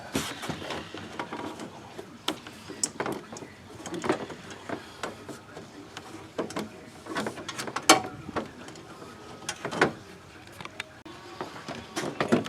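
A rubber intake boot on a Duramax diesel being twisted and worked into a tight fit, heard as a series of close, quiet squeaks, creaks and clicks in irregular bursts.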